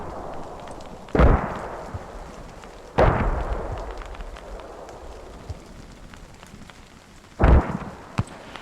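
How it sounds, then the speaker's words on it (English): Mortar shells bursting in a large-scale infantry war game, three heavy booming impacts a couple of seconds apart with rumbling tails, plus a few fainter distant thuds in between. "Good mortars, keep firing."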